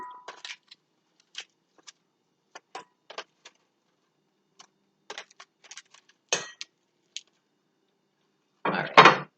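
Air-fried buffalo wings being dropped into a bowl, a scattered series of light taps and clinks with quiet gaps, ending in a louder clatter, close by.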